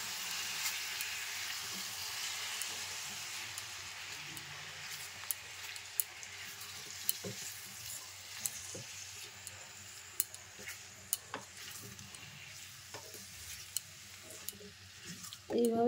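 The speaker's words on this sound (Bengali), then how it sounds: "মশলাগুলো খুব ভালো করে নাড়াচাড়া করে নিচ্ছি।" Spices and amla fry in a pan for pickle, a quiet steady sizzle broken by scattered clicks and scrapes as they are stirred, with a louder clatter at the end.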